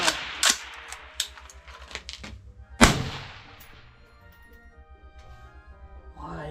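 A Gordy carbine fires single sharp reports, a few scattered cracks followed by one louder shot that rings out and decays into a quiet room.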